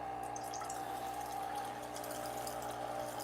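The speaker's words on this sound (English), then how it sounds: "Let's add a little bit of water." Water poured into a shot of espresso to make an Americano at a Gevi espresso machine: a steady, close liquid stream with a constant mechanical hum underneath, no voices.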